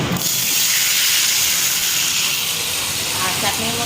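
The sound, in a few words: pressure cooker hissing steam and whistling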